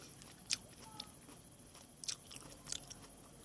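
Someone bites and chews a sweet, firm melon up close, giving several crisp, wet crunches spread out among quieter chewing.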